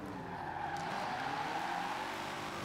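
A car in Forza Horizon 4 skids under the handbrake, its tires letting out a sustained, loud squeal over a steady engine drone, held evenly through the whole short stretch.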